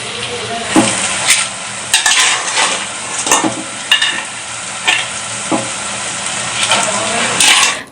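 Large mud crabs fry in a pan for a Jaffna village-style crab curry, with a continuous loud sizzle broken by repeated scraping stir strokes of a utensil against the pan.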